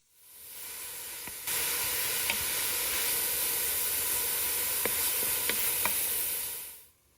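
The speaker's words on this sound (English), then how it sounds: "Then stir-fry the finely chopped leek at medium heat." Finely chopped leek stir-frying in vegetable oil in a saucepan at medium heat, a loud steady sizzle that swells as the food hits the pan, with occasional soft stirring clicks.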